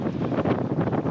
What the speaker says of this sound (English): Crikey, it is windy.